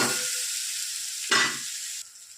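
Capsicum and onion sautéed in a pan, with a loud, dense, continuous sizzle close by that swells once when the pieces are stirred and then drops to a quieter hiss near the end.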